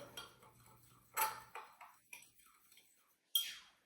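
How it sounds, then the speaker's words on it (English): A spoon stirring a sugar and spice mixture with nutmeg in a bowl. Quiet, scattered clinks and light scrapes come in short bursts with pauses between them. "And then we're just gonna stir that up a little bit."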